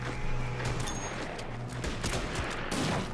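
Infantry gunfire in the wartime strategy game Order of Battle, a short burst of crackling rifle fire and rattling shots mixed with a low steady rumble, fairly faint and without talk.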